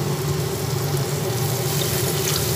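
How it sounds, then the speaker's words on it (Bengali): Small amount of water poured into a hot cooking pan with oil while preparing spiced amude fish, a steady close rushing and hissing splash lasting the whole moment, with no voices. "এখন অল্প পরিমাণে এর মধ্যে আমি জল দেব।"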